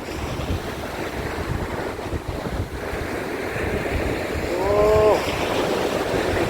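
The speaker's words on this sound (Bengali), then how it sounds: "মোহিত করা সমুদ্রের গর্জন" Sea waves rolling onto the empty beach at Bakkhali, a continuous roar of surf mixed with wind buffeting the microphone, swelling briefly louder near the end.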